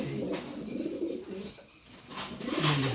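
Pigeons coo in a breeding loft, low rolling calls repeating in overlapping phrases at close range, with a brief lull midway before several birds swell louder again.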